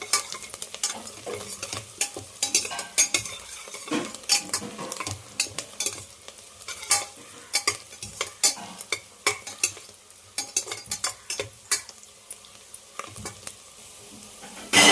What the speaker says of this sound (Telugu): ఉల్లిపాయ, పచ్చిమిర్చి, కరివేపాకు అయితే బాగా వేగుతూ ఉంది కదా, పులావ్ దినుసులు కూడా వేసేసుకున్నాం. ఒకసారిగా మొత్తం కలిపేసుకోవాలి.